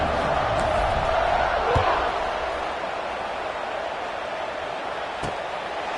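Steady roar of a stadium crowd in a college football video game, a broad, loud wash of cheering at a kickoff on wet turf, constant throughout with a faint thump partway.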